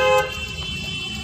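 A car horn sounds in a short burst during a driving lesson, then drops away to steady road and engine noise.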